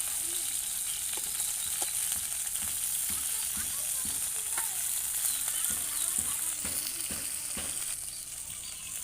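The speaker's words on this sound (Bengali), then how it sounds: "দেখুন মাছ প্রায় ভাজা হয়ে গেছে" Tilapia fish fry in oil on a village brick stove fuelled with dried areca palm sheaths, giving a steady close sizzle with scattered crackles and pops throughout, without talk.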